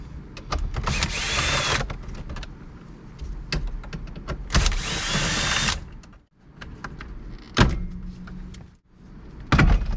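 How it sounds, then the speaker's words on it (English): Cordless drill or driver backing screws out of the dash of a 2007-2011 Honda CR-V, several loud whirring bursts of a second or so each, separated by clicks and handling noises close up. "I take 4 screws out, 2 on the bottom, 2 on the top."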